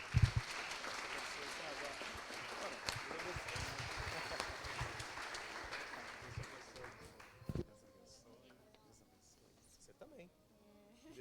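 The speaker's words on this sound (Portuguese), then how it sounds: "Vamos aplaudir o Senhor pela vida deles?" A church congregation applauding during a Christian worship service, with several seconds of sustained clapping that fades away, after which quiet voices speak.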